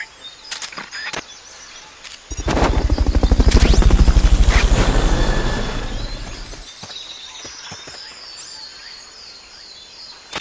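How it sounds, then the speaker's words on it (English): The Fulton recovery helicopter in the video game Metal Gear Solid Peace Walker roars in loudly with rapid rotor chopping, holds for a few seconds, then fades out, with scattered clicks and bird-like chirps around it. "Fulton recovery subject confirmed onboard helicopter."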